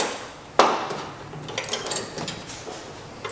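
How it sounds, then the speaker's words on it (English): Torque wrench tightening valve head bolts on a 236cc Tillotson small engine during a big-valve head rebuild: one sharp, close metallic click, then faint scattered ticks and light tool handling. "And at the end, I like to torque these down to"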